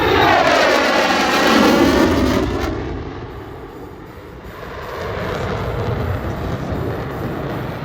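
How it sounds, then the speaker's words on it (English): A military jet decelerating to a hover at show center over an air show roars loudly at first, with a sweeping whine. The engine roar then dips and swells again as the aircraft holds position nearby. "Deceleration to hover the aircraft at show center."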